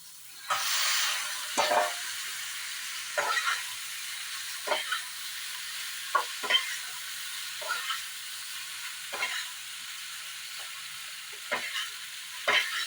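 Pasta and fried carrots are stirred in a pan over a quiet low sizzle, with a spoon scraping in short, irregular strokes spaced a second or two apart.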